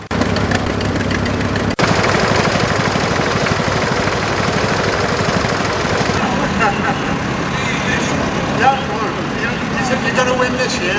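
A 1971 David Brown 990 Select-O-Matic tractor runs steadily and loudly close by at an outdoor show, its engine chugging with a rough, knocking rhythm that continues almost unbroken.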